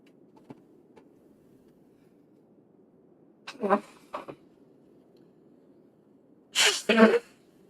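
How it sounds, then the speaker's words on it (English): Two short bursts of a person sneezing over faint background hum, following a couple of quieter breathy sounds. "I think I'm going to sneeze or something"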